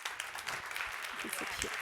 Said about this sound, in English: Big applause for these 3 guests, please.